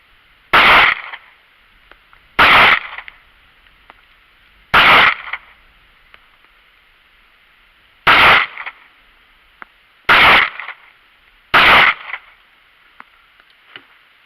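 Six sharp, loud gunshots from a Ruger LCP II pistol fired at a target, spaced irregularly a couple of seconds apart with quiet gaps between them.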